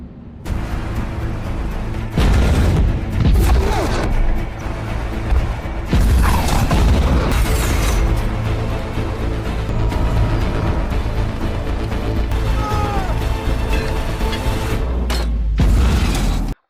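Tank battle in a war film between a lone Russian tank and a squad of German tanks: loud, continuous rumbling combat with repeated heavy booms and blasts, mechanical clanks and a thick low roar that barely lets up.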